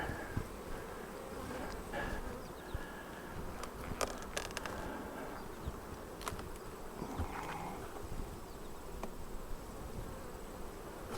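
A dense, steady drone of honey bees buzzing close by, continuous throughout, with occasional faint knocks and rustles underneath.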